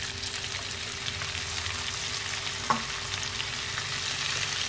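Onions frying in chili paste for anchovy sambal, a steady close sizzle with a faint stir or clink near the middle and no voices.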